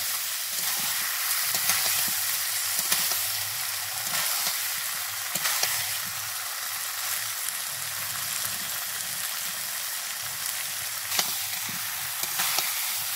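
Fried potatoes tipped into hot oil where chicken is being browned for a coriander-leaf chicken curry, giving a steady, loud sizzle and crackle throughout with occasional stirring clatter and no voices.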